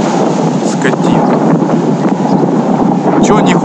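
Strong wind on the Red Sea coast at Sharm el-Sheikh, Egypt, roars steadily and loudly across the microphone, with constant rough buffeting throughout.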